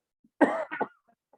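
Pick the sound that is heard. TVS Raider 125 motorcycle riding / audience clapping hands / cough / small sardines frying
cough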